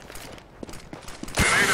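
A flashbang grenade thrown in a video game: quiet game ambience with a few soft clicks, then a sudden loud, bright bang bursting out near the end and ringing on to the close.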